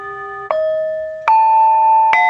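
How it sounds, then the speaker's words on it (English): Three struck metal prayer bowls ring out one after another, each sharp strike followed by a sustained, shimmering tone, loud and close. "those are the prayer bowls"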